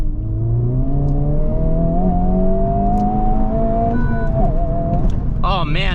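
A 2023 Honda Civic Type R accelerating hard from a standstill, its engine note climbing steadily through the gears with brief shift dips, loud and close from inside the cabin, with someone talking over it.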